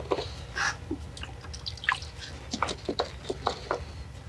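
Water is poured and splashed onto a brick and stone foundation before mortar goes on, making a close series of irregular drips and wet spatters.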